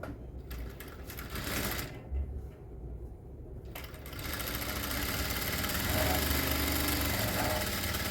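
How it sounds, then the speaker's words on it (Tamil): A sewing machine stitching fabric for semi-patiala pants, starting with short bursts and pauses, then settling into a continuous, steady, close whirring run. "இந்த பக்கத்து பீஸில் வந்து ஃபுல்லாக ஒரு தையல்"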